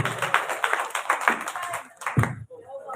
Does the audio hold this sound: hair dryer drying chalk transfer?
no